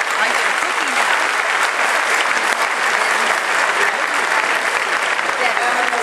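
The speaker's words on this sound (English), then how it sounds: "they need a round of applause" Sustained applause from a convention audience at a Georgia Republican Party gathering, steady and dense clapping filling the room from start to finish, with some voices mixed in.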